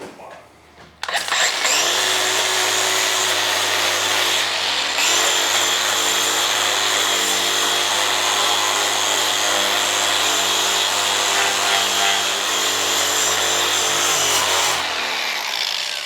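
A power tool wire-brushes rust off an abandoned 1978 Ford F250, a loud, continuous grinding whir running close and steady from start to nearly the end, with a short dip midway and no speech.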